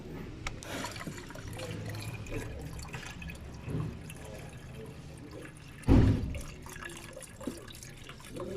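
Regular water is poured into a container during work on a Ford engine with oil and coolant mixed, a running, trickling splash beneath background noise, with one louder gush near the end.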